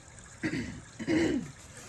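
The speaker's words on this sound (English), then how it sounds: "I keep needing to clear my throat" Two quick throat clears, close and fairly loud, the second longer and rougher than the first, with quiet room noise around them.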